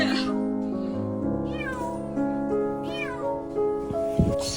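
A rescued stray cat meows repeatedly up close, with several drawn-out, rising-and-falling cries over a steady background hum.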